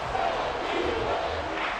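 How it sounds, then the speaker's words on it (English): Stadium crowd roar from a Madden NFL 24 football game on a late-game third and long, a dense, steady wash of cheering and yelling that stays loud and continuous throughout. "This crowd turning up the decibel level"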